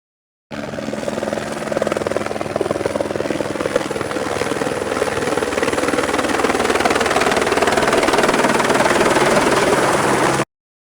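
A helicopter in flight, its steady rotor chop and engine drone continuous and fairly loud for about ten seconds, heard alone.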